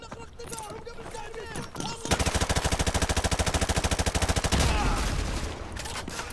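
Rapid automatic gunfire bursts in Call of Duty Modern Warfare 2 multiplayer, a loud sustained rattle of evenly spaced shots lasting a couple of seconds, followed by a heavier blast, with game sounds and talk around it.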